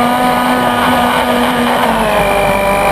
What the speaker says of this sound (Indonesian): Kita di blender dulu sampai dia halus.